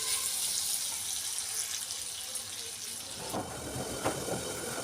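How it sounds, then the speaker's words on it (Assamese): Scrubbing a spice rack under a running tap in a home kitchen: a steady hiss of flowing water fills the clip, with a few louder splashes and scrubbing knocks toward the end. "মছলা থোৱা ৰেগটো মাজি আছোঁ তো এইটো মাজি লওঁ"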